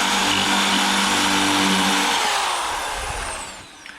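A loud hammer drill whirs, grinding steadily into brick mortar for a couple of seconds, then winds down and fades out.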